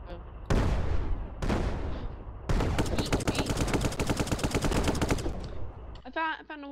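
A tank in the Brick Rigs video game lets off two loud booms, then a long rapid stream of rattling fire. The barrage ends and a voice speaks briefly.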